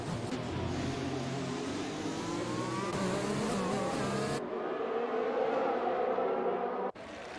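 A pack of racing cars accelerates hard at a safety car restart at the British Grand Prix in a racing video game, loud overlapping engine whine rising, then cutting sharply to a thinner single-car drone.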